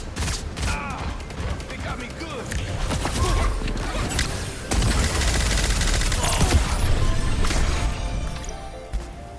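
Rapid gunfire crackles through a solo run-and-gun match in the hero shooter Concord, with dense overlapping shots, impacts and ability effects in steady bursts, loud and close throughout.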